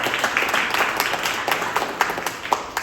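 An audience at the TCNPC Fremont mayoral candidate forum claps in a steady, fairly close round of applause that fills the whole short stretch, with a few sharper individual claps standing out.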